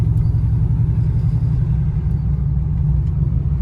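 A cammed Chevrolet Camaro SS with a manual gearbox, on new 24-inch wheels, drones with a loud, steady low rumble from inside the car while driving, and no voices are heard.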